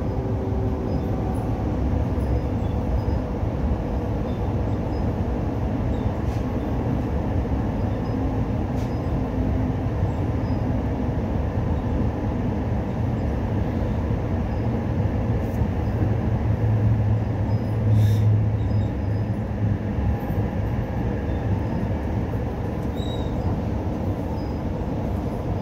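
Passenger train running on its approach to Kiama station, a steady low rumble and rolling rail noise continuing throughout, close and fairly loud, with no voices.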